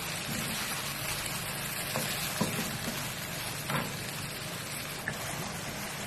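Chicken pieces frying in a pan for a chicken vegetable pasta, a steady, even crackling sizzle with a few faint scrapes, close up and without talk.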